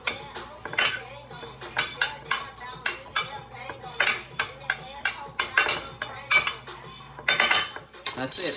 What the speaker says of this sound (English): I'm just going to use a regular spoon. Mix that up.